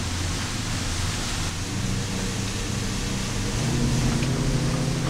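A Beneteau Antares 9 OB, a 30 ft outboard cabin cruiser, accelerates at full throttle, a steady loud roar of engines and rushing water and wind, continuous and close, with no talk.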